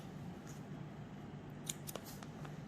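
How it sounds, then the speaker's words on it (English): Scissors snip through knitting yarn beside a small knitting machine while a comfort doll is made, giving a few quick, close cuts around the middle of the clip over a steady low hum. "So I forgot to cut my yarn off."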